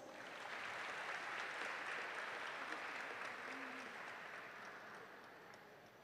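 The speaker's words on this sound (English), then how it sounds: "Audience, please welcome the panel of judges with a round of applause." Audience applause at a school recitation competition, sustained steady clapping from a large crowd, fairly loud at first and slowly tapering off.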